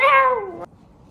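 A man imitates a cat's meow with a single drawn-out, falling meow lasting about half a second, loud and close, then quiet.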